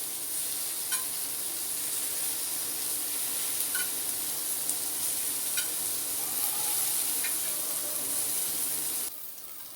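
Paneer frying in a pan for matar paneer gives a steady, dense sizzle that holds for the whole stretch with a few faint clicks. It drops away abruptly near the end.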